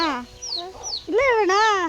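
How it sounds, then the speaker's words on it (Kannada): Chickens cluck and call close by while they gather to eat scattered feed, with several overlapping clucks and a longer rising cackle near the end. "ಎಲ್ಲ ಕೋಳಿಗೆ ಮೇವು ಹಾಕಿರೋದಕ್ಕೆಲ್ಲ ಒಂದು ಕಡೆ ಬಂದು ತಿಂತಾ ಇದ್ದಾವೆ"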